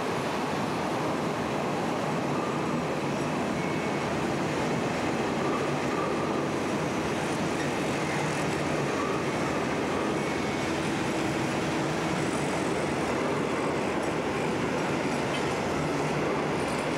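An electric train rumbles steadily past on the Stadtbahn city railway near the old Lehrter Stadtbahnhof, continuous loud rolling noise with faint wheel clatter and brief squeals, no voices.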